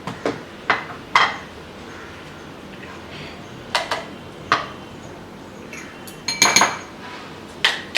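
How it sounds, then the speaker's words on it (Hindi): A knife chops raw capsicum into small pieces on a board, producing sharp, irregular taps and clacks, some clustered in quick pairs, against a quiet background. "तो ये कैप्सिकम को मैं इसके अंदर डाल रही हूँ और इसके छोटे से टुकड़े कर देते हैं।"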